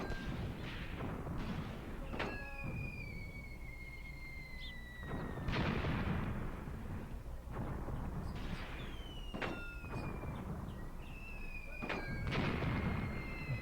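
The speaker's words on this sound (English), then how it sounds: "They are under fire from heavy Russian weapons, including mortars from over there." Heavy Russian weapons and mortar fire in the WWII strategy game Graviteam Tactics, Kharkov 1941, with dull distant booms and sharp cracks arriving every few seconds over a constant low battlefield rumble.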